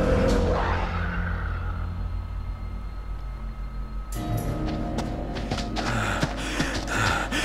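Heavy, ragged breathing and gasps from a character in the horror game Little Hope, loud and close, with a sudden burst of louder game noise and clatter partway through.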